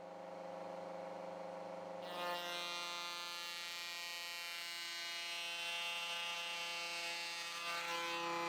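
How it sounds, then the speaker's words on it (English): Wood router cutting a pass on sideboard stock in a woodworking shop, a steady high whine that jumps in pitch and grows louder as the bit bites after two seconds, then holds evenly. "the router didn't move one bit during that whole operation"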